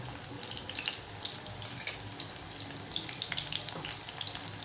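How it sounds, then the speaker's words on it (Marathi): Mushroom lollipops deep frying in hot oil give a steady, dense crackling sizzle with bright bubbling spatter throughout, fairly close and continuous with no talking. "मशरूमचे लॉलीपॉप तळून घेऊया।"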